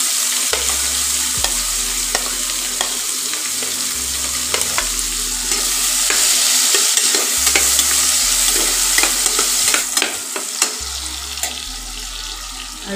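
A large chopped onion hits hot oil seasoned with dried chillies in a pan for a pointed gourd curry, giving a loud, continuous sizzle with repeated stirring scrapes throughout.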